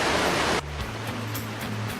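Air Terjun Silima Lima waterfall roars as a dense, steady rush of falling water, loud and close at first, then slightly softer with a low hum underneath.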